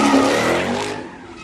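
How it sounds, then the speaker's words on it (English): Car skidding at a street sideshow at an intersection in Oakland at night, a loud broadband tire roar that fades over about a second, with no talk. "A car drove into a group of people during a sideshow overnight in Oakland."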